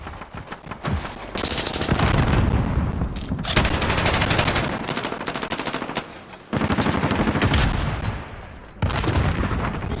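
Sustained automatic gunfire shooting through a wall in Call of Duty: Modern Warfare, loud and close, with dense rapid bursts that run almost without pause and briefly break off twice before starting again.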